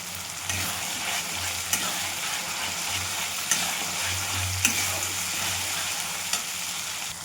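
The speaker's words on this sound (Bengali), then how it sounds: "এদিকে দেখো মশলাটা প্রায় কষানো হয়ে গেছে" Spice masala frying in oil in a pan, with a steady broadband sizzle and occasional clicks of a utensil stirring and scraping the pan throughout, close and continuous, with no talk.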